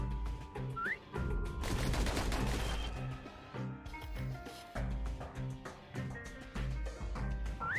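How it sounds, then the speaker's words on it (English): Bastion video game pistols fire in rapid bursts set against a music score, with a dense cluster of shots early on and scattered cracks afterward, all at moderate loudness and with no speech. "Those pistols could spit out rounds just as quick as you could pull the trigger."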